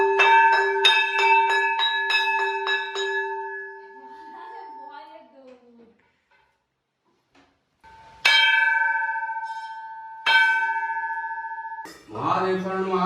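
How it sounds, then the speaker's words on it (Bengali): A worship hand bell rung during a home puja, struck in a rapid string of bright metallic dings that trail off, then a pause before a few more rings, with a voice briefly at the end. "এই ঘন্টাটা পরি বাজাতে পারবি?"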